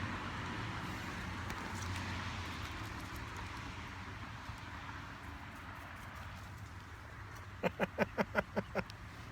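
Cars pass along a road near a porch on a Sunday drive, a steady rolling traffic hum at moderate distance, then a quick run of rhythmic clopping taps near the end.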